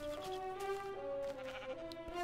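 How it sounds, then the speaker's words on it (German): A sheep bleats in a Minecraft game, a wavering nasal cry repeated a couple of times over steady background tones, with no talk. "Da ist ein Schaf oder sowas?"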